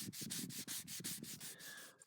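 Sandpaper rubs briskly over a timber handle in rapid back-and-forth strokes, a dry rhythmic scratching up close.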